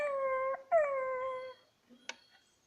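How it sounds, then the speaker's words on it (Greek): A new puppy gives two drawn-out, wavering howls close by, then falls quiet before a brief faint yip or knock. "ένα καινούργιο σκυλάκι στο σπίτι"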